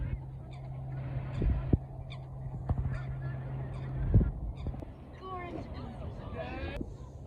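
Honking geese and black and white ducks by the water in Stockbridge, Edinburgh, call in a few loud honks close by, under a steady low hum, while a person talks nearby.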